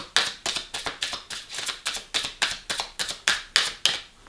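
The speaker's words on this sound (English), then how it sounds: "one more shuffle and I'm pulling the one off the top" A rapid series of crisp tarot card riffles, about a dozen quick shuffling bursts in a steady rhythm, close and fairly quiet.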